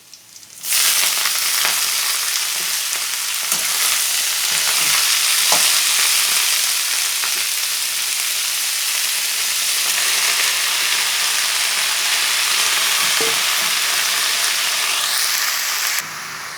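Bathua leafy greens fry in a pan with browned garlic, a loud, steady sizzle that runs unbroken for several seconds, with faint scraping and clicks from occasional stirring.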